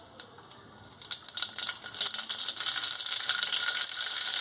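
Mustard seeds popping in hot oil for a tempering for a Kathiyawadi green onion and sev curry; close, dense rapid crackling that starts sparse and builds to a steady loud patter, with no talking.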